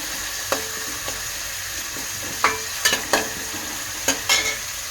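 Onions sizzle in a pan as fresh curry leaves are added, a steady quiet frying hiss broken by several sharp stirring scrapes and clinks spread through the stretch.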